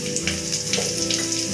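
Chopped green chillies fry in hot oil with a close, continuous sizzle and crackle, broken by a few brighter spits.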